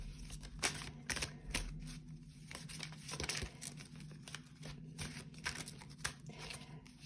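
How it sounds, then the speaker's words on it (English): Tarot cards are shuffled by hand in a quiet room, a soft crisp riffling and flicking that comes in uneven bursts, fairly faint and close, with no talking. "Let's give it another shuffle here."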